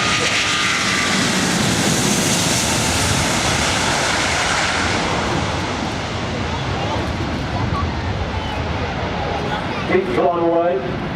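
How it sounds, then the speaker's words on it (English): An Airbus A380 jet airliner taking off at the Farnborough airshow, a loud broad roar that swells and then slowly fades as it climbs away, with wind buffeting the microphone and a brief voice near the end. "Here comes from the right, the Airbus A380."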